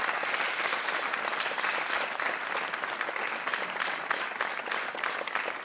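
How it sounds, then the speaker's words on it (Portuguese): A large studio audience on a Portuguese TV quiz show claps steadily and enthusiastically, a dense, even wash of applause that continues without pause. "Antes da terceira pergunta, um grande aplauso desta gente toda para o Hugo Biano"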